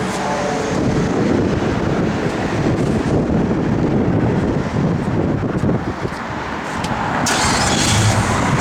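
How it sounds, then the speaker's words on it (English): A 1966 Ford Mustang with a mini torque starter and BBK headers, its engine noise a loud, steady rumble that runs the whole stretch, with some wind buffeting and no talking. "It's got that little mini torque starter."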